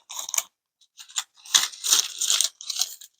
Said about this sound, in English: Now I'm going to just pour them into a little cup